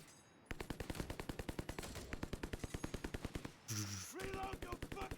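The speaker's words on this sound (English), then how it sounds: "What do we think of the new bar sound, guys? Suppressing fire." A BAR machine gun in Company of Heroes 3 fires rapid, evenly spaced bursts of suppressing fire, loud and close, with a brief pause and mechanical clatter before the shooting resumes.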